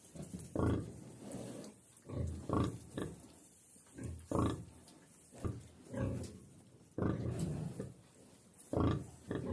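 Repeated short grunts from piglets, close and fairly loud, coming in irregular bursts with brief pauses between them.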